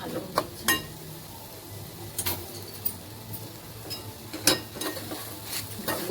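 Grated coconut and jaggery filling stirred in a pan, with a few sharp clinks and scrapes of a spoon against the metal, irregular and fairly close, over a quiet background.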